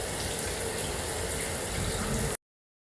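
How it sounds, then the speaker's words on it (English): A shower runs with a dense, steady hiss of falling water, loud and close, then cuts off abruptly. "time to have a shower, do the shower test"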